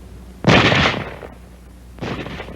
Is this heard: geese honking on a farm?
no